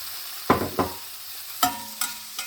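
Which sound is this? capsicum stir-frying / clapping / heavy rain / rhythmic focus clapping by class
capsicum stir-frying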